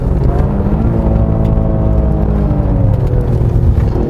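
A Toyota GR Yaris engine drones loudly from inside the car as it drives a winding mountain road, its pitch climbing and sagging slowly as the revs change, with no voices.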